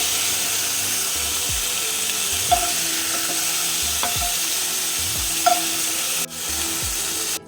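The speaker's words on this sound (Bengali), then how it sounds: "দেখুন চিকেন এরকম হালকা করে ভাজতে হবে" Steady hiss of chicken frying in white oil in a kadai, with occasional metallic scrapes of a utensil stirring, fairly close and continuous.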